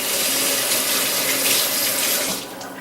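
Water runs steadily from a kitchen sink faucet while something is rinsed off during stuffed pepper prep, a continuous close hiss that drops slightly in level near the end.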